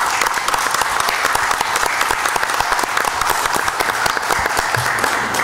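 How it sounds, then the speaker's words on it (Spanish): An audience at a citizen security committee meeting applauds its commander, a dense, continuous burst of clapping from many hands, loud and close, with no voices over it. "Vamos a aprovechar para darle un aplauso al comandante"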